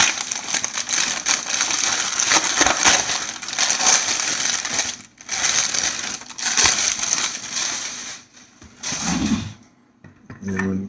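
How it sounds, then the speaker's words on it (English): Protective plastic film peels off a new gold Icon Airflite motorcycle face shield visor, giving loud, close crinkling and crackling in long stretches, broken by brief pauses, with a voice briefly audible near the end. "Peel it right off."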